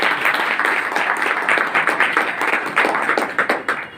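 An audience at a Modicare plan presentation in Saharsa claps for themselves, loud close applause with distinct individual claps standing out in an uneven, rhythmic patter that grows choppier toward the end.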